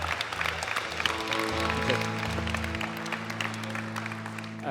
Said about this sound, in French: une main d'applaudissement pour Stéphane Bureau